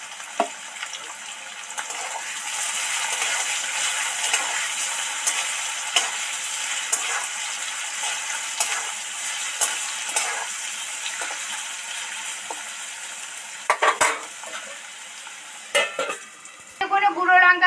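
Chira pulao (flattened rice) with turmeric sizzles and fries in a pan while being stirred, a steady crackling fry with scraping stirs and a few sharp utensil knocks near the end.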